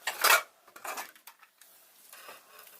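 A pressure cooker of mutton biryani being opened, with a loud metallic clatter of the lid and pot near the start, then a few lighter clinks and scrapes fading into quiet.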